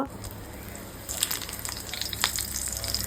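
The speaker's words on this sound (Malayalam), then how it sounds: "ഞാനിതാ കായം പുരട്ടി വെച്ച് മീൻ ഓരോന്നായിട്ട് വറുത്തെടുക്കുകയാണ്" Fish rubbed with asafoetida frying in a pan, a faint sizzle that swells after a second into crackling pops and spatters.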